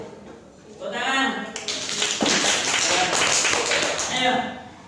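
Children in a classroom clap their hands together in a burst of applause during a religious studies lesson, dense broadband claps lasting several seconds before fading, with voices mixed in at the start and end.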